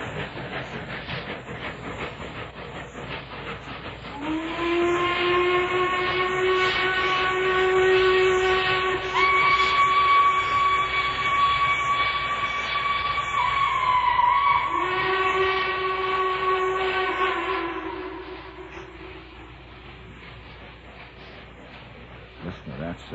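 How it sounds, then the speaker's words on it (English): A train rumbles steadily along while its horn blasts two long sustained chords, loud and near, fading back to the rolling rumble. "Listen to that train just rolling on."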